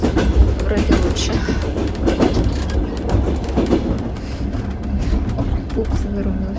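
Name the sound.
passenger train riding past Dnipro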